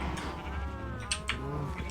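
Minecraft sheep bleat in a short series of wavering, nasal calls, moderately close, with a brief sharp click or two partway through and no talk over them.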